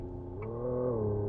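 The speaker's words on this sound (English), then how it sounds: "which is kind of more bassy V8 noise" An Aito M5 electric SUV plays its simulated bassy V8 engine note in thrust mode, a low droning hum that swells and rises slightly in pitch, steady and fairly close, with no talking.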